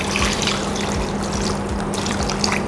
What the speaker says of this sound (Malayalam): ഇതിനകത്തേക്ക് 2 കപ്പ് വെള്ളം